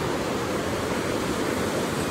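The Sabha river rushing beneath a bridge in the hills, a constant broadband roar of flowing water, steady and fairly loud with no voices.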